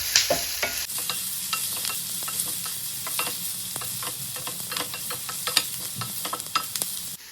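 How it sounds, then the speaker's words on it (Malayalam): Onions frying in a pan on low flame for spicy chicken curry, a continuous sizzle broken by frequent sharp spatula scrapes and clicks in an irregular stirring rhythm, close and fairly loud. "നമ്മളൊരു ലോ ഫ്ലെയിമിൽ വെച്ചിട്ട് നല്ലോണം ഇളക്കി കൊടുക്കുക"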